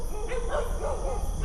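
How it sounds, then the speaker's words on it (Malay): Dogs barking at night on a hill, a few brief barks and yips at moderate distance over a steady background hum. "kita dijemput dengan gonggongan anjing"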